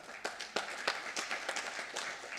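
Graduates at a convocation clap in an uneven, moderately loud patter of individual claps, sparse enough that separate hands are audible.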